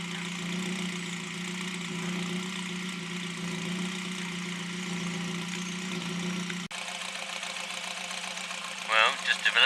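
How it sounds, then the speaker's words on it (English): Ford Focus MK1 RS engine idling with a misfire, a steady, droning idle close by with an uneven pulsing character, which drops in tone partway through as a voice speaks near the end. "Well, just developed a misfire."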